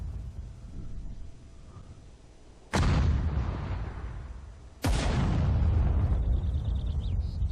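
Two heavy artillery blasts in the WWII strategy game Sudden Strike 4, set on the Mannerheim Line, each a sudden loud boom with a long rumbling decay, a couple of seconds apart over quieter background battle noise.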